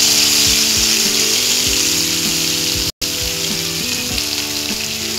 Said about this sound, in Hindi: जो घी बचा था उसमें ही हमने दूध डाल दिया है।